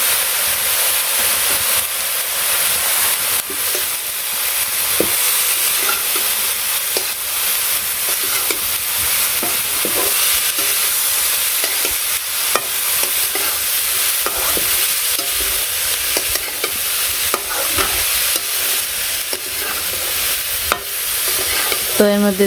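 Chili, five-spice and turmeric fry slowly in a pan for a sour gajar (snakehead) fish curry, giving a constant close sizzle and hiss with faint scattered crackles and occasional utensil taps, no voices.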